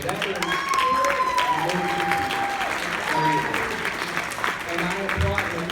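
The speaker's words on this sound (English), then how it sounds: "And I applaud him" Applause fills a room at a company Christmas party, sustained hand-clapping from a crowd, with voices talking and calling out over it throughout.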